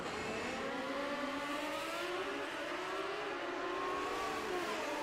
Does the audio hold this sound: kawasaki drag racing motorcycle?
yes